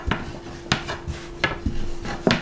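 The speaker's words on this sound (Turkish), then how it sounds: "Oklava yardımıyla şöyle minicik çevire çevire" Wooden rolling pin rolling out thin dough for homemade döner, producing a few soft knocks and rubbing scrapes at uneven intervals, close and fairly quiet.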